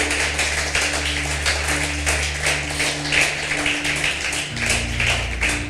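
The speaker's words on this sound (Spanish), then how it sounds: "Bendecirle con un fuerte aplauso a Dios si estás creyendo." A church congregation applauds steadily and loudly throughout, a dense continuous patter of many hands over a low musical drone that shifts pitch partway through.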